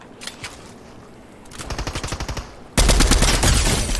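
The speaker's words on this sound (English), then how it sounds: "I was shooting at this kid" Rapid automatic gunfire in a video game, first scattered shots, then a burst of quick rounds, then a loud sustained volley close up.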